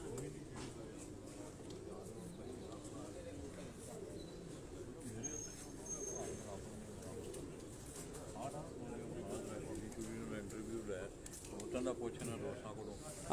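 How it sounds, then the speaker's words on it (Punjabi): Several pigeons belonging to a pigeon fancier in Sialkot, coo softly at close range outdoors, a continuous low murmur that runs under steady conversation between men. "ਹਾਂਜੀ 4 ਕਬੂਤਰ ਨਜ਼ਰ ਆ ਰਹੇ।"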